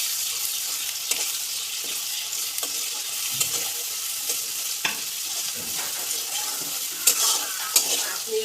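Ginger paste and whole spices sauté in a pan after onion and garlic, giving a steady, close frying hiss with scattered soft clicks and scrapes from stirring throughout.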